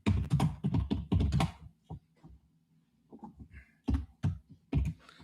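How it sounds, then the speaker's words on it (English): Rapid clicking of computer keys, bursts of fast typing with short pauses between, close and clear with no voices. "I'm typing in the group."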